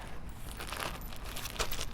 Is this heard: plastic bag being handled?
yes